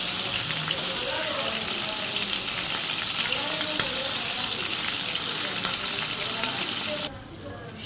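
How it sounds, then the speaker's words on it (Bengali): A homemade burger meat patty frying in a pan, a loud continuous close sizzle with crackling spatter, cutting down sharply to a quieter hiss at the end. "এই যে আমার মাংসটা দেখেন কীভাবে ভেজে নিতেছি।"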